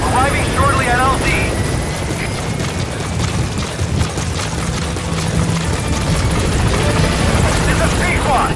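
Pequod helicopter arriving at the landing zone in Metal Gear Solid V, a loud continuous rotor roar and engine drone that holds steady throughout, with faint radio chatter on top.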